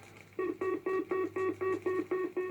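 Call box pay tone on a Post Office telephone line: rapid repeated pips, about eight short even tones in quick succession with brief gaps, steady and clear.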